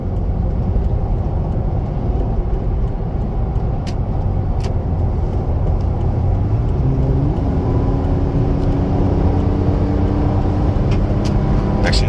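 A lifted Toyota FJ Cruiser on air-bag suspension cruises at 70 to 75 mph on a highway, giving a steady, loud roar of engine and road noise with faint ticks and a rising whine partway through.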